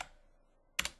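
A single key press on a computer keyboard, one short crisp click after a quiet pause, close and alone.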